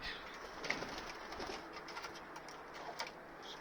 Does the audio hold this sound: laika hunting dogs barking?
no